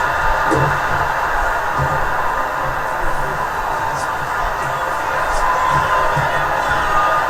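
Dense, steady roar of an arena crowd cheering during a wrestling match in WWE 2K25, continuous and loud throughout, with a commentary voice running over it.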